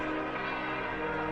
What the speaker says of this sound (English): All the bells in the country announce that the father-in-law of Europe is dead.